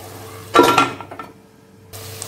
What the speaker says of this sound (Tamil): இப்போ அடுப்பை கம்மி பண்ணிவிட்டு அப்படியே மூடி போட்டு கொஞ்சம் நேரம் வதக்கிக்கலாம்